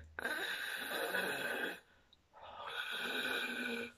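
A voice imitates a moka coffee pot hissing as the coffee is about to come out, producing two long breathy hisses separated by a short pause, close and fairly loud.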